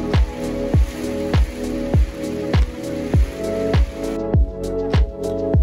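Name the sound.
autumn rain in Scotland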